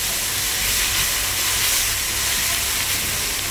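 Onions sauté in a mix of butter, ghee and oil, giving a loud, continuous hissing sizzle that holds steady throughout with no voices.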